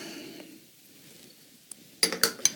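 A spoon clinks sharply against a bowl a few times while stirring oregano, paprika and onion powder into tomato-paste pizza sauce for a vegan pizza, after a quiet stretch with soft scraping.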